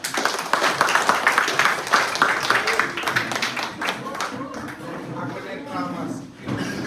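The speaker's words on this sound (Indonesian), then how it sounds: "Ega, berikan tepuk tangan." A class of children claps together in a school classroom, a brisk burst of many small hands that thins out, with voices talking over it toward the end.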